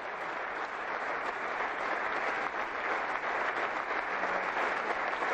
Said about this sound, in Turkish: Takım arkadaşları ayakta alkışlıyor onu.